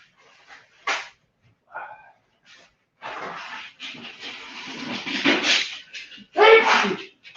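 A single abrupt sneeze near the start, followed by people talking nearby.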